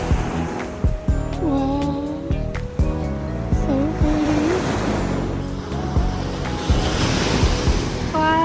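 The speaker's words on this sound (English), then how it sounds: "I love the beach." Ocean waves roll onto a beach at Kamakura, Japan, a steady, close wash of surf with wind buffeting the microphone and faint tonal sounds drifting through the background.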